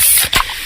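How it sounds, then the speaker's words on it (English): A can of Pepsi cola cracks open with a short sharp hiss of escaping gas, a loud, close spray lasting well under a second, with a quick click-like pop in the middle. "that's the sound of a freshly opened fizz-filled Pepsi"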